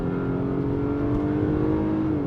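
A 2024 Acura RDX A-Spec engine holding a steady, loud drone with a slight rise in pitch as the driver manually drops a couple of gears, heard from inside the cabin with no talking.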